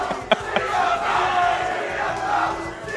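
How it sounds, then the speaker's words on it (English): A tournament crowd at a Rivals of Aether Top 8 match at Frostbite 2018 chants together in a loud, sustained roar, with a couple of sharp claps or shouts near the start. "The CFL chants are in abundance right now, folks."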